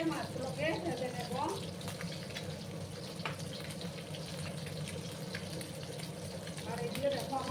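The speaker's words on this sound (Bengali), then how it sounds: "আর একটু সময় আমি একটু লাল লাল করে মাছগুলোকে ভেজে নেব।" Fish frying in hot oil for a Bengali dahi katla give a continuous close sizzle and crackle, with a voice speaking over it at times.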